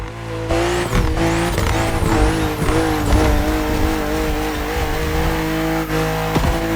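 A BMW 3.0 CSL races in The Crew Motorfest, its engine revving hard through rising and falling gear changes, steady and close, with brief tire squeals along the way.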